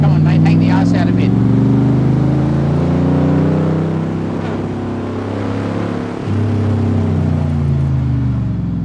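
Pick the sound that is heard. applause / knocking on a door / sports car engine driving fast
sports car engine driving fast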